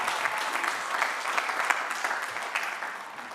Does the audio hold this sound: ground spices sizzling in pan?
no